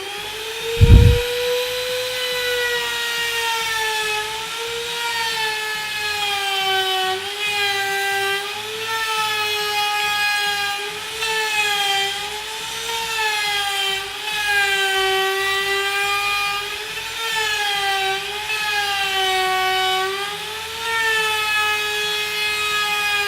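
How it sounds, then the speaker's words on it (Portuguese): A Makita router fitted with a 6 mm collet cuts wood for a stool, giving a high, steady whine with a small wavering pitch that runs continuously, following a brief knock at the start. "uma da Makita aqui, ó. Uma fresa com a pinça de 6 mm."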